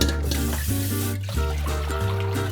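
Water running into a Dutch oven to cover a beef tongue for braising, a continuous close splashing flow with a rising, gurgling tone as the pot fills, steady and fairly loud with no talking.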